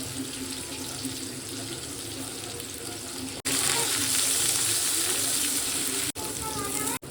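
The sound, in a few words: dried chili and cumin frying in hot mustard oil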